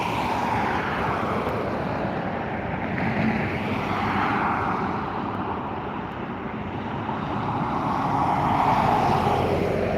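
A Turkish Cargo Airbus A330 taking off at Dublin Airport, heard as a steady, loud broadband engine roar that swells slightly toward the end, with no talk over it.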